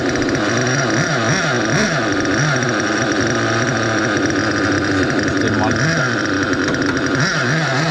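Nitro engine of an XTM Mammoth ST RC truck running loud and close, a buzzing steady drone with wavering pitch as the throttle fluctuates, with a voice over it.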